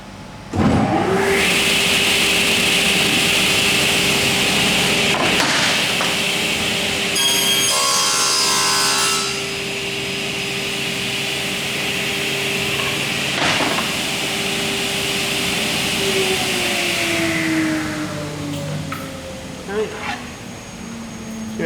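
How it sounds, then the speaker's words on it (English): Panel saw's scribe (scoring) blade cutting a wooden test board: a loud sustained whine and rasp from the saw spinning up, with the cut running for about fifteen seconds before the motor winds down. "That's the scribe saw."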